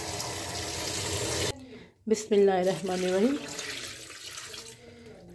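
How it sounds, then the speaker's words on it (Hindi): Water pours from a tap or vessel into a large cooking pot for a village-style ojri dish, a steady rushing splash for over a second, then someone speaks briefly over fainter water sounds. "अब हम इसमें पानी डालेंगे"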